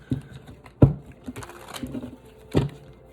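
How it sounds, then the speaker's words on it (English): Tarot card decks being shuffled in a quiet room: a few short, crisp riffling bursts and soft patters, with two sharper snaps standing out over a couple of seconds. "I have mixed up these decks, which I kind of like, but it's like hard to shuffle"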